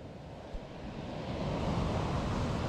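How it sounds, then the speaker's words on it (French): Big ocean waves break along the shore at a surfcasting fishing spot, a steady broad roar of surf that swells louder in the second half, with wind buffeting the microphone and no speech. "Donc ça fait des vagues, des grosses vagues."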